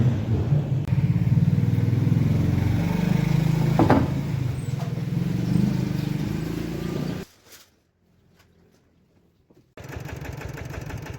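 A farm tractor engine on a rural road, heard as a loud, steady chugging drone with a rattling thump midway that cuts out abruptly, then resumes after a near-silent gap.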